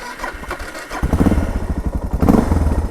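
Suzuki DR650 motorcycle engine idling roughly, then revved with the throttle into a loud, pulsing rise that stays strong and close to the end.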